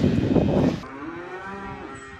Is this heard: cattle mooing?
yes